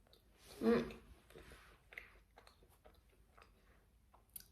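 Close, soft crunching of a chocolate-covered biscuit with a semi-soft, not very crunchy texture: one louder bite, then quieter chewing and small mouth clicks.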